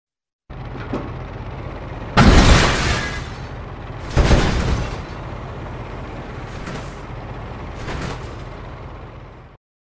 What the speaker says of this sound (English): with just a vocal mic, you can turn your voice into a car smashing to the ground with this preset